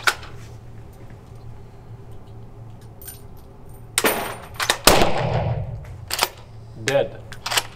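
Shotgun shots fired at driven game during a shooting lesson, heard as a few sharp, loud reports spread through the clip, with ringing tails after two of them.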